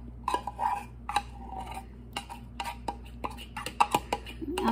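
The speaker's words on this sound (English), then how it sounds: "I'm sorry if that scraping is bothering your ears" A utensil scrapes and clinks against a bowl while lemon icebox pie is being made, in a series of sharp, irregular strokes close to the mic over a low steady background hum.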